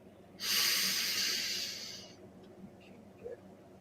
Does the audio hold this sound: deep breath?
yes